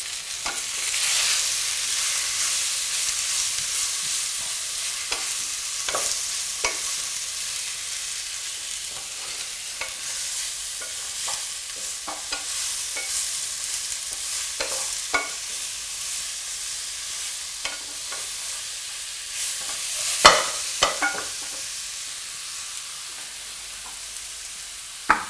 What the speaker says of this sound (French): Ne pas oublier de mélanger aussi vos poireaux pour éviter que ça accroche